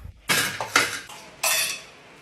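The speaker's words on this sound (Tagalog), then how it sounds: "maghugas ka muna ng plato doon" Plates and cutlery clink and clatter during dishwashing, three bright, close bursts of metal and ceramic knocking separated by short pauses.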